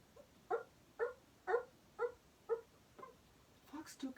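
Children imitating a fox's little dog-like bark, a voice mimicking a string of short yips, about six evenly spaced calls, close and moderately loud, followed by a few higher squeaky cries.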